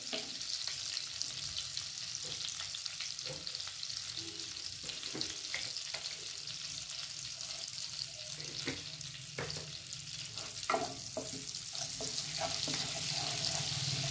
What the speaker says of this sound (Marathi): बटर आपलं छान वितळलं की यामध्ये आपल्याला सर्वप्रथम जिरे घालून घ्यायचं आहे